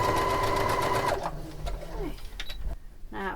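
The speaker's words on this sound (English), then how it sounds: "Holding it flat and making sure you're sewing the two layers together." A sewing machine runs steadily, stitching two fabric layers of an envelope cushion cover. Its fast mechanical whir holds for about a second, then gives way to softer handling noises and brief mechanical clicks nearby.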